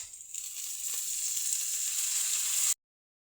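Hot oil with fried chillies and onions sizzles loudly and steadily as water goes into the pan, a continuous bright frying hiss that cuts off abruptly near the end.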